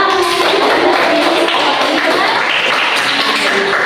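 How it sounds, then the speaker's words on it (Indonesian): Students clap for a classmate in a classroom, a dense, close, steady patter of hands at constant loudness with no speech over it. "tepuk tangan dulu buat Najwa."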